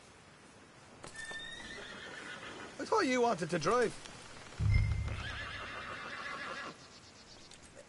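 In Red Dead Redemption II, a horse whinnies loudly mid-clip, followed by a snort and hooves clopping, while a person speaks briefly before it.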